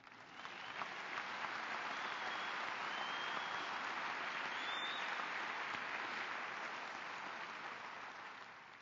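A large audience applauds at a university commencement ceremony. The applause is a soft, even wash that swells briefly, heard from a distance and without any speech.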